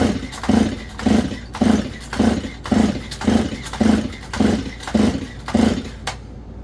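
The starter cord of a Stihl 034 chainsaw is yanked during a compression test, about eleven evenly spaced pulls in a steady rhythm, each a close, whirring rasp of the turning engine.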